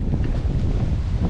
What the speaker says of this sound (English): As the wind's blowing me back again.